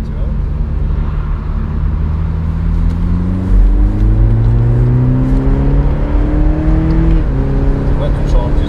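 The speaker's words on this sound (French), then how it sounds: "T'entends le bruit du moteur?" A 2021 BMW Z4 2.0i engine revs in sport mode, its note climbing steadily and dropping briefly with a gearshift, heard from inside the car.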